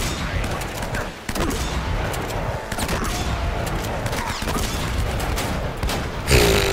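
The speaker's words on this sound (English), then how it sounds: "Using the shotgun for mid-range. Stop trying to shoot me." Shotgun and enemy gunfire in the action game Uncharted: Drake's Fortune, with repeated sharp blasts and volleys scattered through a noisy firefight and a louder burst near the end.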